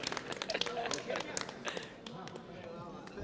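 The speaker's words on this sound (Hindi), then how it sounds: "वेरी गुड बेटा, ताली बजाते हैं" At a charitable trust's blood donation event in Udaipur, a small group claps for a first-time donor, with scattered close claps mixed with people talking, fading slightly toward the end.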